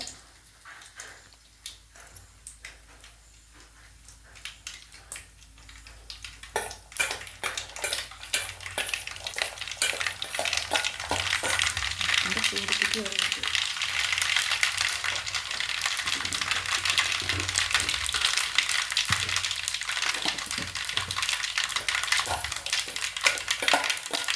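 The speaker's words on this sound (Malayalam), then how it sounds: "ഇനി ഇതാ കടുക് പൊട്ടിക്കുന്നു." Mustard seeds spluttering in hot oil, starting with scattered pops and building into a dense, loud crackle of rapid bursts that continues to the end.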